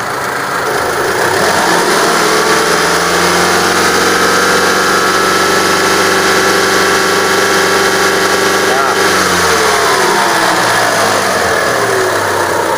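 A car engine fitted with a simple homemade vacuum water injection setup runs loud and close, its drone rising and holding as the throttle is pressed, then dropping back toward idle near the end.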